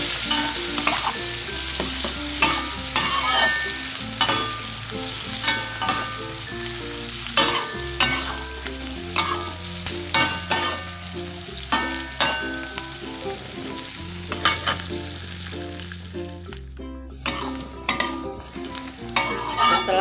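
Shallots tossed in with half-dried anchovies sizzle steadily in a hot pan, with a spatula scraping and stirring in a busy rhythm, close and continuous, while music plays underneath.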